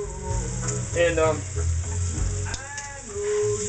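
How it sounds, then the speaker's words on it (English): Bacon fat renders in a hot pan, a close, steady sizzle and crackle with small popping bursts running through the short stretch. "like the fat rendering in the bacon here"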